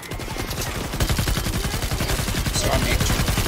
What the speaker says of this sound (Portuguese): Vai dar um tiro que eu tenho uma arma pra você aqui